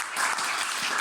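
Audience applause at a coding bootcamp demo day, a dense wash of many hands clapping steadily and fairly loud throughout the short stretch, with no clear voices on top.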